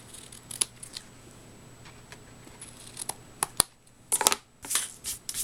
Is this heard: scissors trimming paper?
yes